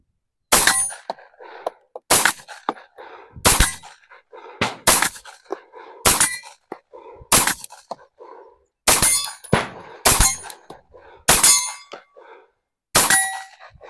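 A Tisas 1911 Carry B9R 9mm pistol fires Federal ammunition at targets about 30 yards away, ten sharp loud shots at irregular intervals of roughly one to two seconds, each followed by a ringing steel-target ping.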